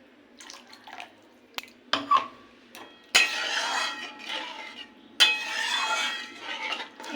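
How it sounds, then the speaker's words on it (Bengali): Water poured into a pan of fried spice paste for a fish curry, with a few clinks of utensils, then two sustained splashing pours a couple of seconds apart, close and fairly loud. "এবার দিয়ে দেবো পরিমাণ মতো জল।"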